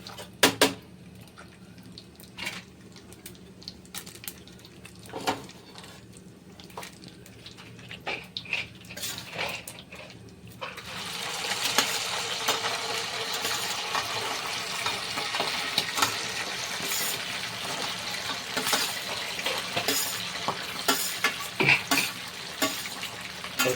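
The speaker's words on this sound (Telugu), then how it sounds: "ఇప్పుడు ఈ చికెన్ అయితే వేసేద్దాం" Chicken pieces dropped into hot oil for a Bhimavaram-style chicken pickle, a quiet kitchen with light clinks giving way after about ten seconds to a steady, loud sizzling hiss that continues to the end.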